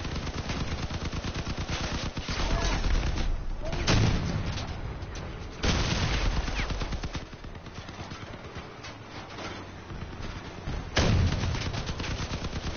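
Sustained gunfire in a video game, loud dense bursts of automatic shots and heavier booms rolling through repeated waves with barely a pause, with voices talking underneath.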